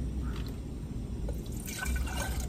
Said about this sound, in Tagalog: Susukatin natin ang tubig para walang masayang.